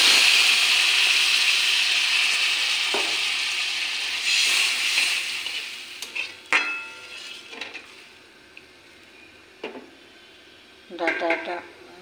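Hot water poured into a pan of frying vegetables with spices sets off a loud hiss and sizzle that slowly fades, followed by scattered clinks and stirring scrapes of the pan.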